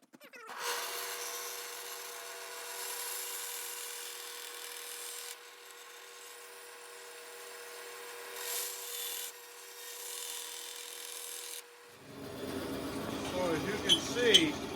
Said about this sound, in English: somebody gave me this old saw, and it cuts aluminum very well